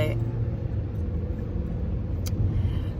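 Steady low engine rumble inside a car driving late at night, a constant droning hum with muffled talking partly over it.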